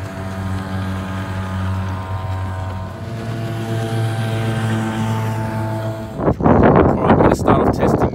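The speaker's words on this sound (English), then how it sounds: "Start off testing with the standard 5 horsepower." A standard 5 horsepower outboard motor runs steadily on a small boat, a close, droning hum with a constant pitch for several seconds before a louder burst of wind and water noise takes over near the end.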